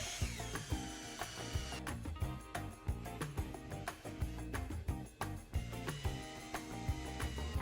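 Two-inch wood screws being driven with a drill into pieces of board for a headboard, giving repeated ratcheting, clicking mechanical bursts in a steady rhythm, close and fairly quiet, with no talk.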